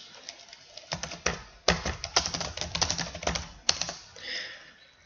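Rapid bursts of keystrokes on a computer keyboard while text for a bake-sale flyer is entered into a Word document; close, crisp, irregular clatter with short pauses between runs of typing, no voices.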